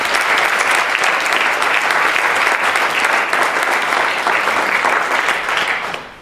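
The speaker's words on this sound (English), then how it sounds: "Can we give them again a round of applause?" Sustained audience applause at a university MLK keynote address, a dense, loud wash of clapping from a large crowd that holds steady for about six seconds before easing off at the very end.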